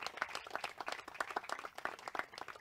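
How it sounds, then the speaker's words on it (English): Congregation applause during a church service, a small group clapping with distinct, uneven individual hand claps, moderately quiet and heard alone. "Would you please help me say thank you by just giving them applause?"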